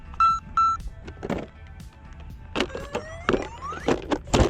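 An ARRMA Vorteks 4X2 Boost Mega550 RC car set to LiPo gives two short electronic beeps as its battery is plugged in, followed by a rising tone and scattered clicks and thumps of handling nearby.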